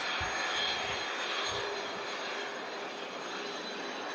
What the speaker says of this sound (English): There's Tui, 737, just taken off, heading off to Antalya.